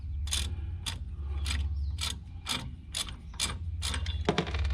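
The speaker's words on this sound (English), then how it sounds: "use the ratchet to back it out" Ratchet wrench backing a damaged wheel stud out of a vehicle hub, a rapid run of about nine sharp, evenly spaced ratcheting clicks over a steady low hum, close and fairly loud.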